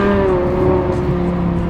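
A BMW M6 with its V10 engine and F1-style exhaust idling steadily, a continuous low rumble with buzzy harmonic drone, close and fairly quiet, no talking.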